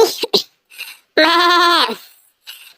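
A voice imitates a young goat bleating, giving one loud, wavering, drawn-out bleat of nearly a second, with short vocal sounds before and after it.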